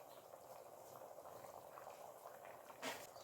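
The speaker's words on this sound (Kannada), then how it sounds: "ಮಸಾಲೆ ಚೆನ್ನಾಗಿ ಕುದೀತಿದೆ" Masala simmering and bubbling in a pan while making oil okra gojju, a soft, steady low bubbling close by, with one brief louder burst near the end.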